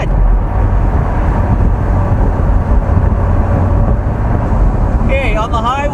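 A sports car with an automatic transmission drives along, its engine rumble and road noise filling the cabin in a loud, continuous roar, with a voice briefly heard near the end.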